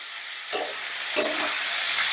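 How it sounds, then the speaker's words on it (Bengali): Spice paste with garlic, onion and tomato fries and is stirred in a pan for an egg and eggplant curry, a steady close sizzle broken by two sharp scraping stirs. "এবার এটাকে আমি বেশ ভালো করে কষে নেব।"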